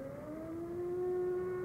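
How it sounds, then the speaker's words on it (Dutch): An air raid siren wails in a Dutch wartime radio drama set in a prison, a steady, loud tone that rises slightly in pitch and holds for the whole stretch over a low rumble. "Hoor je die sirenes? Luchtalarm."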